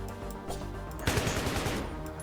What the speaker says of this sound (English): he shoots you with the AK